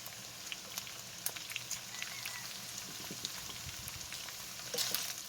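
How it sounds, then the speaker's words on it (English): Diced medium onion and potatoes sizzle softly in a pan, a faint, even crackle with scattered small pops and clicks, no voices. "get this all stirred up and get the onion cooking while the potatoes finish cooking"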